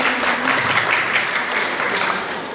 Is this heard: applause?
yes